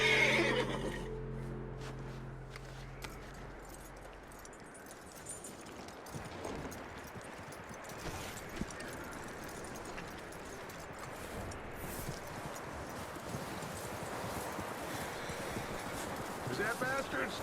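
A horse whinnies near the start in Red Dead Redemption 2, followed by a steady bed of movement and hoof clatter, with game ambience and voices talking over it.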